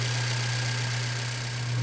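A Honda CR-V 1.5L engine idles steadily just after an oil change, a constant low hum with a smooth, even drone and faint mechanical hiss, heard close and alone throughout.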